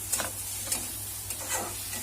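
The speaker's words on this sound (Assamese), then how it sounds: "এতিয়া ভালকৈ ভাজি ল'ম।" Quiet frying of mashed potato with soaked thekera in a pan, a faint hiss broken by several light spatula strokes and scrapes, no one speaking.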